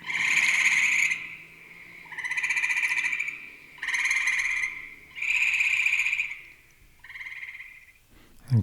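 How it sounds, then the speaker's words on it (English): A gray tree frog gives its springtime mating call in five loud, resonant trilling bursts, each about a second long and separated by short pauses, with no other sounds around it. "That is actually the gray tree frog."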